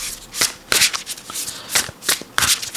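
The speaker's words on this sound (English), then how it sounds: "let's pull one more card from here." An oracle card deck being shuffled by hand, giving close crisp riffling bursts in quick succession with soft taps between them, and no one speaking.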